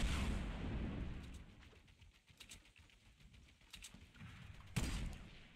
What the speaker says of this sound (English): Oh, rocket coming.